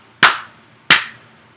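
Two sharp, loud hand claps, about two-thirds of a second apart, each ringing out briefly over a quiet background, made as a sync marker for lining up audio.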